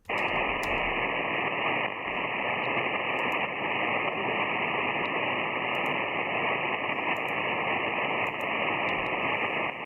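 An amateur radio contact fades into steady, loud static hiss that fills the whole stretch, with no voice coming through, only occasional faint clicks.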